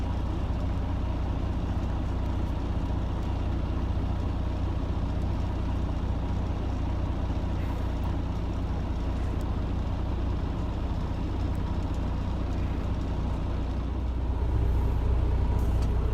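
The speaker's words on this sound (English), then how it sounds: "This got trucks all the way back there to the back." Trucks idle in a long queue at a gate, giving a continuous low engine rumble that stays steady and moderately close throughout, with a slight swell near the end and no talking.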